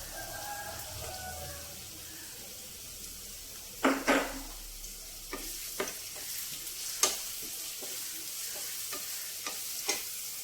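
Onion and green chilies fry in a pan with a steady background sizzle, broken by several scraping stirs and sharp clinks of a spoon against the pan.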